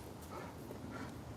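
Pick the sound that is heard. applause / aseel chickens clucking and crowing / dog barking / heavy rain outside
dog barking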